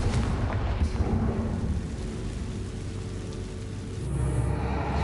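A blasting fire spell detonates in the Hogwarts Legacy game on PS5, a dense rumbling boom that rolls on for several seconds, with a fresh swell of low crackling near the end.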